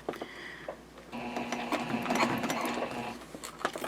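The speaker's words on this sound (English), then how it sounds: "I'm ready to get started sewing in the other side panel." A sewing machine stitches a jelly vinyl pouch side panel, running in short, close, rhythmic bursts of mechanical clatter with a brief pause early on, heard alone with no talk.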